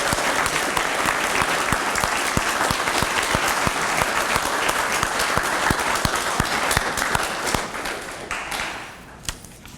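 Sustained audience applause at a fire department reserve recruit academy graduation ceremony, dense clapping filling the room steadily before tapering off near the end.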